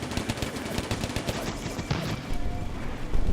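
Rapid machine-gun bursts and scattered rifle shots from a WWII North African battle at Bir Hakeim in the game Combat Mission: Afrika Korps, dense rattling fire that continues throughout before heavier, lower booms near the end.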